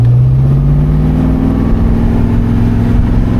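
A 1972 Oldsmobile Cutlass accelerating while driving, its engine note a loud, steady low rumble rising slightly in pitch, with no one speaking.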